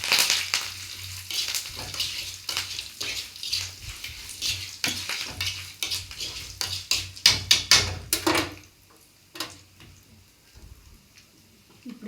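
Curry leaves frying in hot oil crackle and sizzle in short bursts, with a low steady hiss underneath, fading after about eight seconds to faint intermittent pops.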